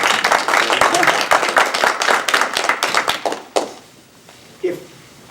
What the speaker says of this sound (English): could you give him a round of applause for taking that hit?